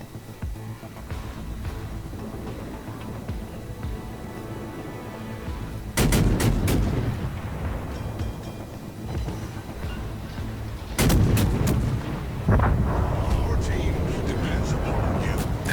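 Heavy naval gun salvos in World of Warships boom out in two clusters of sharp blasts, each followed by rumbling echoes, over a steady background of engine drone and ambient battle noise.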